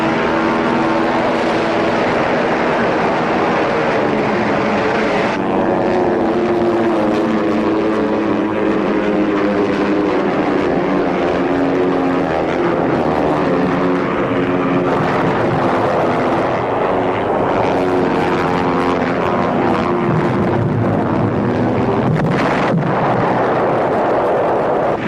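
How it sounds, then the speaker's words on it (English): Enemy warplanes roar overhead during the World War II battle of Iwo Jima, a loud, continuous engine drone that swells and shifts over about twenty-five seconds, mixed with booming rumbles and no talking. "The sky is filled with enemy planes."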